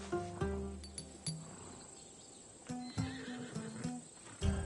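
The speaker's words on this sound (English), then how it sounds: "I wouldn't want you to take an unworthy horse." A horse in Assassin's Creed Odyssey whinnies loudly with a high, wavering neigh, followed by snorts and a few more short, sharp neighs and hoof clinks.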